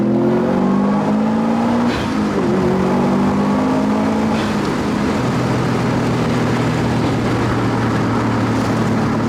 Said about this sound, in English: What you guys just heard was probably the cheapest WRX Sti in whole mainland Europe.